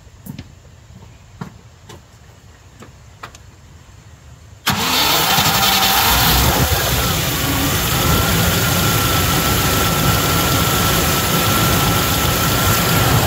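Land Rover Discovery engine cranking and catching, jumping from a quiet stretch with faint ticks to a loud, steady idle that runs unbroken for about eight seconds.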